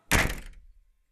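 A door swings shut with a single solid thunk, close and loud, followed by a short low rumble that fades out within a second.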